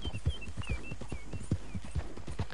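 Horse hooves clip-clop at a steady walking rhythm in Red Dead Redemption 2, close and clear, with soft periodic thuds and light background ambience.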